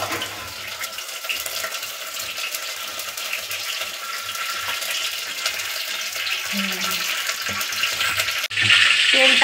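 Oil pours into a pot set on a lit gas burner, heard as a steady, fairly loud hiss and rush that runs unbroken, then ends in a brief dip followed by a sharper, brighter burst near the close.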